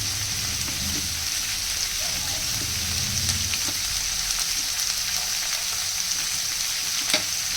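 Potato curry with capsicum frying in a pan, a loud, steady sizzle that runs the whole way through with a few stirring scrapes and no talking.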